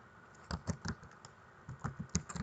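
Soft keystrokes on a computer keyboard come in two short bursts of quick, irregular taps, close and quiet, with a brief pause between them.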